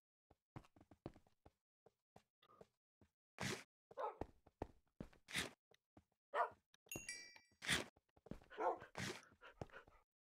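Dogs in the Minecraft video game, heard as a scatter of short barks and yelps amid footsteps and thuds, moderately close and fairly quiet, with no talking.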